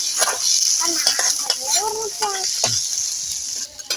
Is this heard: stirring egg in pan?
yes